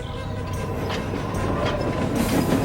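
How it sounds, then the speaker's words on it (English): A steam train rolling along the rails with a steady rumble and rhythmic clickety-clack, a faint squeal rising over the continuous noise. "The train reached the junction in excellent time."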